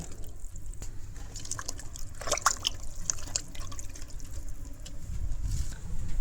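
Jackfruit seeds are dropped into a bowl of water, giving a few soft splashes and trickling drips close by over a low, steady background hum.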